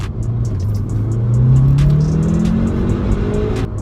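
A 300 bhp Audi S1 accelerates hard from the cabin, its engine note rising steadily in pitch under a loud, continuous drone, with tyre and road noise close by.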